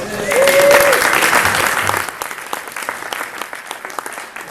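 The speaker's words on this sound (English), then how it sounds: "Take a round of applause." Audience applause for a composer at a synthesis event, a burst of clapping that swells early and then thins into scattered claps, with some crowd voices and a brief tonal whistle near the start.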